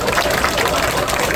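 An audience at a conservative lecture in Daegu breaks into applause, a dense, even wash of clapping heard for a short burst.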